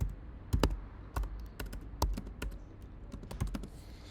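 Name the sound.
typing code on a computer keyboard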